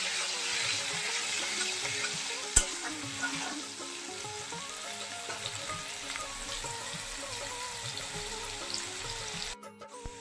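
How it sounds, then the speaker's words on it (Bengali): Potatoes with salt and turmeric frying in hot oil, a continuous soft sizzle and hiss that fades slightly midway, with a sharp clink of stirring near the start. "এখন ভালো করে নাড়িয়ে চাড়িয়ে ভেজে নেব"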